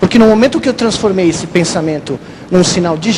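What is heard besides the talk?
No distinct noise like a dog, phone or traffic.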